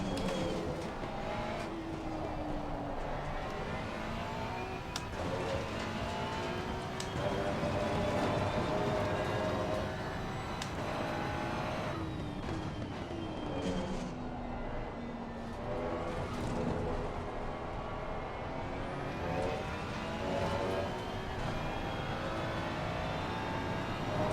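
A Ferrari sports car engine in a racing video game, a sustained whining engine drone that repeatedly climbs and drops in pitch through gear shifts and throttle changes, steady and loud throughout.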